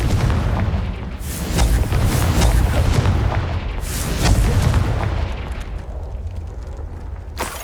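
Confringo blasting spell in the Hogwarts Legacy video game, a series of deep booming explosions with crackling bursts over a rumbling low roar, loud and near, without voices.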